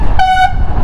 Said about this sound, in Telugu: హార్న్ కొట్టాడు, సైడ్ కూడా అవ్వట్లేదు అసలు.